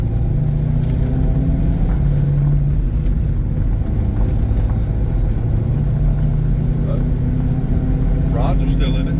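A 1995 Ford Mustang GT V8 pulls hard through third gear, its engine a loud, steady droning roar that holds for several seconds while voices talk over it.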